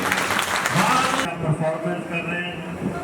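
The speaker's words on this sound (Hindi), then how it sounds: "एक बार देश के नाम पर जोरदार से ताली बजा दी।" An audience at a school Mother's Day celebration claps loudly in a brief burst that cuts off after about a second, leaving a quieter room with a voice and faint background sounds.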